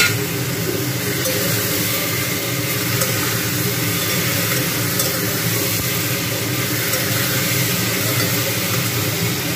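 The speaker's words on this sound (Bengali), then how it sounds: "এবারে যেটা করব সেটা হচ্ছে এই টমেটো আর লঙ্কাটা ঢেলে দেবো।" Tomatoes and green chillies fry in a pot for a chicken stew, giving a steady, fairly loud sizzle with faint stirring scrapes that holds evenly throughout.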